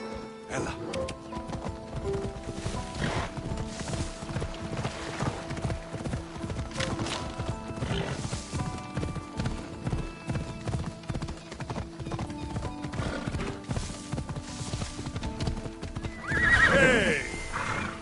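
A horse gallops and neighs in Assassin's Creed Odyssey, rapid, steady hoofbeats running throughout, with a sharp whinny near the end over faint game ambience.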